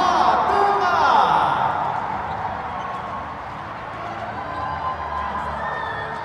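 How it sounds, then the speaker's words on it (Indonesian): A crowd of spectators at a women's basketball game between Bali and Central Java applauds and cheers, a dense wash of clapping that swells early and then settles into steady applause over a few seconds. "mari berikan tepuk tangan semangat juga untuk Provinsi Jawa Tengah"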